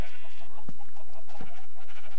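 Sheep bleat in the Minecraft video game, a few short wavering calls repeating close by over a steady background.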